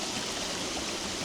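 Steady, full rush of a woodland waterfall and stream, continuous and close with no pauses.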